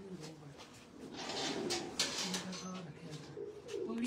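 Pigeons cooing softly at a chat in Jinnah Garden, Islamabad, low rolling coos repeating over a murmur of background noise.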